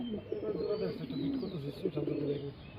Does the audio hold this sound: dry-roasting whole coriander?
no